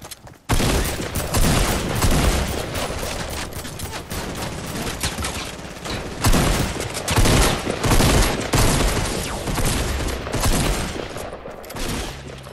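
Dense, continuous video game gunfire rattles for about twelve seconds, with rapid bursts and volleys layered into a loud, sustained barrage and no talk over it.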